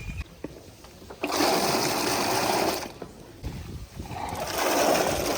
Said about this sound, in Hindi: इस तरह बड़े से टब में पानी डाल के खजूर को अच्छी तरह धो लिया जाता है।